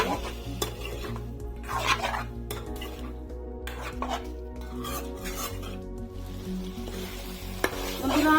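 Broiler chicken is sautéed with spices in a pan, with a continuous sizzle and frying hiss, intermittent scraping stirs, and clinks of a utensil against the metal pan, at moderate loudness with no talking.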